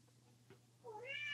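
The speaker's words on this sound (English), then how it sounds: "can you hear my cat?" A house cat gives a short, faint rising-and-falling meow near the end, preceded by a soft low hum and a small tap in a quiet indoor room.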